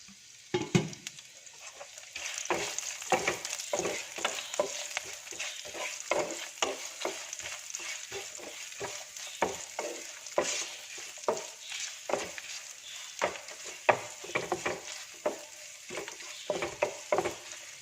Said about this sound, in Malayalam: നമ്മൾ എടുത്ത് വെച്ചിരിക്കുന്ന സവാള അങ്ങ് ചേർത്ത് കൊടുക്കാം